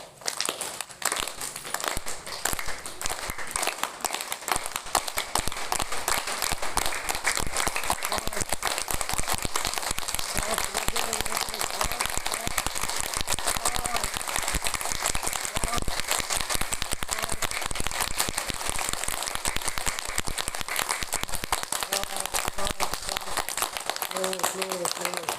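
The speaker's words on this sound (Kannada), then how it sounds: "ಚಪ್ಪಾಳೆ ಹೊಡೆದು ಕೈಗಳನ್ನು ಕೆಂಪಾಗಿರ್ಬೇಕು." A group at a free Patanjali Yoga Samiti training session at a public school in Manvi claps hands hard and continuously for a long stretch, a dense, even patter of claps with an instructor's voice talking over it.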